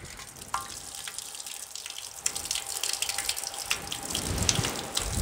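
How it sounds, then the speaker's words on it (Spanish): Water runs and drips through the potting mix of a Cattleya orchid pot as it is watered, a steady close trickle that swells into a heavier gush toward the end. "Es más importante el agua que sale, porque así me está garantizando que toda la matera quedó llena de agua."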